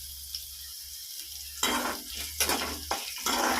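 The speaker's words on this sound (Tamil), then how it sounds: "பட்டை லவங்கம் ஒரு ஏலக்காய் இஞ்சி பூண்டு மிளகு சீரகம் எல்லாம் போட்டுக்கிறோம்" Whole spices (cinnamon, cloves, cardamom, pepper, cumin) fry with ginger and garlic in a pan, a soft sizzle broken by several scraping stirs that come in short bursts.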